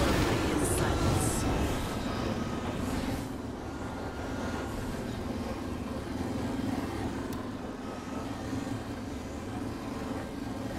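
Continuous rumbling vehicle drive in Apex Legends, a steady mid-level engine and road drone under occasional game voice lines and soft background sounds.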